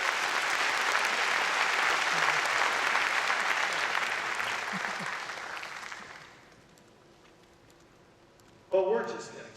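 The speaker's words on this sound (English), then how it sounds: "Please give yourself a big round of applause." Audience applause fills a large hall at an Intel keynote at Computex 2012, loud and sustained for about six seconds before fading away, followed by a brief burst of sound near the end.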